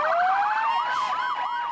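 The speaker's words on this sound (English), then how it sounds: "And while these sirens don't signal trouble" Emergency vehicle sirens sound along a parade route near Fort Pierce, a loud wailing tone rising and then warbling in quick yelps, with other sirens layered underneath and no talk.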